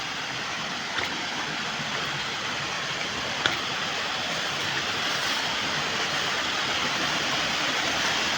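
Small waterfall at Gadgadi in Balanipashi, a continuous broadband rush of falling water, steady and fairly close, with no voices.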